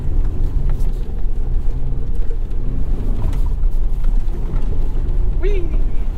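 A 2021 Chevy Colorado ZR2 pickup grinds through deep mud, its engine a steady loud low rumble and strain throughout, with splashing and sloshing over the top and a brief whoop near the end.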